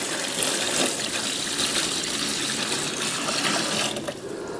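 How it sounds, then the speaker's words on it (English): Water runs steadily from a tap into a plastic chilly bin to cover a heater, a continuous close splashing fill at an even level with a slight drop near the end. "So we put water in the chili bin so that it's covering the heater."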